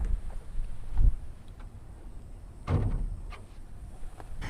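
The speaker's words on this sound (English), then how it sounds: "Let me open up the hood." Opening the hood of a Porsche 944 produces two dull, close clunks about two seconds apart, followed by a few light knocks and rattles against a quiet background, with no speech.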